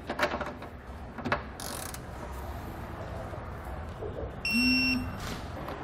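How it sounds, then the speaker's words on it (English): A ratchet tightens the bolts of a Curt trailer hitch receiver on a 2013 Ford Focus, giving bursts of close, rapid clicking amid mechanical clanks and a short electronic beep. "And then we can go back and torque our hardware to the specifications found in our instructions."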